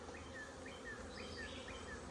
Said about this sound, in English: which means there's other bees around.